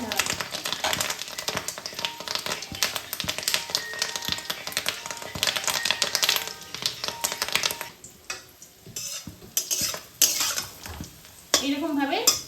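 Fish roe fritters fry in hot oil in a pan, a dense, steady close sizzle with frequent clinks and scrapes of a utensil stirring, easing slightly toward the end.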